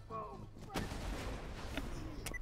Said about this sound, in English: It's a rocket launcher.